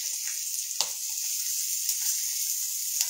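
Ginger and green garlic sautéing in a pan, a steady close sizzle with a few sharp crackles and utensil taps, no talk.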